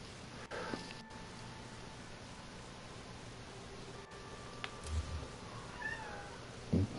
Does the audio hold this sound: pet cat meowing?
yes